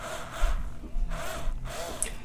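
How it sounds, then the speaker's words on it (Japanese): A drill bores into a guitar fingerboard position marker, shell or resin dot, with rough grinding bursts that swell and fade in about three passes, close and moderately loud, with a faint high squeak near the end. "ドリルで真ん中に穴を開けちゃいます"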